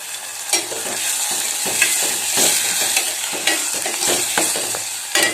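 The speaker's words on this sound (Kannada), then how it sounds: "ಈಗ ಒಗ್ಗರಣೆಯೆಲ್ಲ ಈ ಬೇಳೆಯನ್ನು ಏನು ಮಾಡ್ತೀನಿ, ನಾನು ಸೇರಿಸ್ತೇನೆ." Toor dal stirred into a sizzling tempering in a pan for a dill leaf and dal stir-fry, with steady frying crackle and repeated scraping strokes of a spoon, close and continuous.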